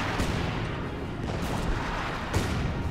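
White phosphorus artillery barrage in the game Company of Heroes 2 on the Port of Hamburg map, a dense rumble of booming impacts with a few sharper blasts rising out of the continuous roar.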